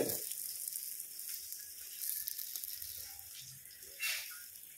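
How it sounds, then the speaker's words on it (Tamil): Steady hissing sizzle of a whole fish frying in hot oil in a pan, continuous and close, with small crackles and a brief louder spurt near the end. "இப்படி முழு மீனை வறுத்தாச்சு"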